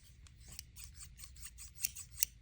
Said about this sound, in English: These are not cheap scissors, and they are sharp.